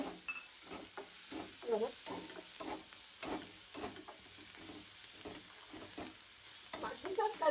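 Finely chopped onion going into a pan with green chili thecha and turmeric for spicy eggplant bharit: a quiet, even sizzle with repeated stirring scrapes, and a voice briefly speaking over it.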